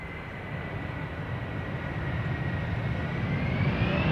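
A 17-year-old passenger airliner arriving at Amsterdam Schiphol on a flight from Minneapolis, its engine roar a broad steady rush that swells slightly louder as it nears, with no voices.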